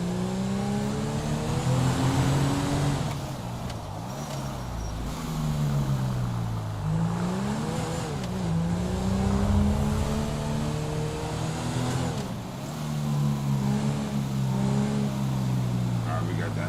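Engine of an unmarked Dodge Charger SRT police car driving in GTA V, steady droning hum with rising and falling pitch as it accelerates and shifts, continuous and fairly loud throughout, with a voice faintly present.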